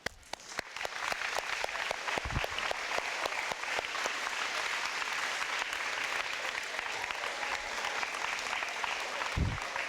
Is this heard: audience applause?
yes